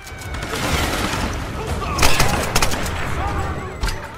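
Loud, dense rattle of Tomb Raider game gunfire and explosive booms with a couple of sharp grenade launcher blasts standing out, amid chaotic battle noise.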